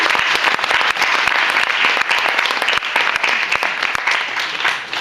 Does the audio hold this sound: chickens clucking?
no